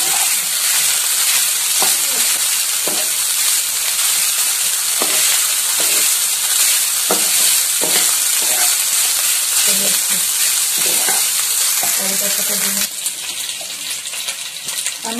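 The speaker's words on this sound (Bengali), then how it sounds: "ভালো করে কষিয়ে নেব ভাতের সাথে।" Rice with salt and peanuts stir-frying in a pan for South Indian aam bhat, a steady loud sizzle broken by repeated scraping and clinking strokes of a spatula, with no talk.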